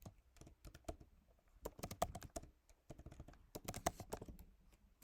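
Typing on a computer keyboard while writing code: quick, irregular clusters of clicky key taps that come close and fairly quiet in bursts, with brief pauses between runs and no talking.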